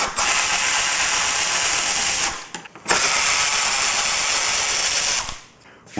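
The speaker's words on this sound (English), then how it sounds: "It's going to take a Torx 25 to take this whole outer fairing off." A Torx 25 driver works on the windshield fairing screws of a motorcycle, giving two long, loud bursts of whirring, ratcheting mechanism noise with short gaps between them.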